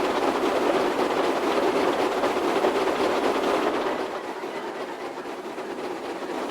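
A train rolls along rails in a Roblox game, a steady loud rumble with rhythmic clattering that eases off and grows quieter toward the end.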